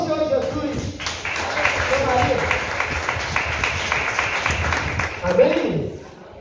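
A church congregation claps and applauds for a few seconds, steady, moderately loud clapping from a crowd filling the room beneath a preacher's voice.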